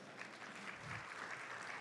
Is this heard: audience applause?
yes